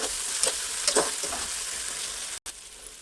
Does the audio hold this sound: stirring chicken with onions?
yes